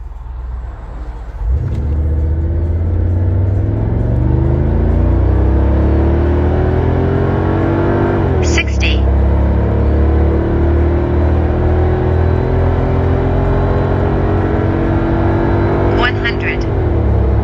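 A diesel Mercedes-Benz G-Wagon 6x6 roars from a standstill under full throttle toward 100 km/h, its engine note climbing through gears with two brief shift breaks, loud and close throughout.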